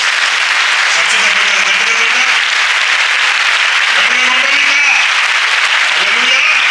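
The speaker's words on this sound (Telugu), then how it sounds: "చప్పట్లు కొట్టండి." Congregation applause breaks out in a church during a sermon, a broad steady wash of many hands clapping that carries on throughout, with faint preacher's voice fragments underneath.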